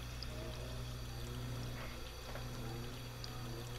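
Water runs from a faucet in a spooky adventure video game, a faint, steady rushing pour that continues without a break under a low background hum.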